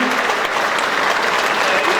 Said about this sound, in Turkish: Alkışlar için alkış nerede?